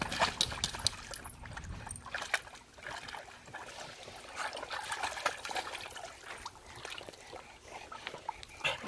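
A dog splashes about in a swimming pool at a doggy daycare, giving continuous sloshing and trickling water noise with no talking.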